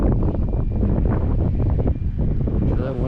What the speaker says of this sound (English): That wind's really helping.